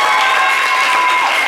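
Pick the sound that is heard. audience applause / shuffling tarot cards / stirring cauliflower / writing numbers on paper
audience applause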